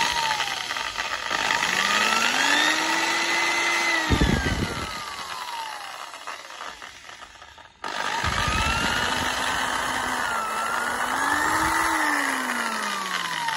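A used Japanese rotary hammer drill with speed control runs in two bursts, its motor whine sweeping up and down in pitch as the speed changes, fairly loud and near, with a short stop between the runs.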